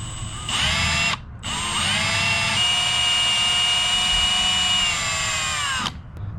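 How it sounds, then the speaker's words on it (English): Power drill boring a hole through the steel I-beam frame of a Grand Design toy hauler, a steady high whine near and loud, briefly stopping once before running on again. "I'm gonna start my first hole here and see how this goes"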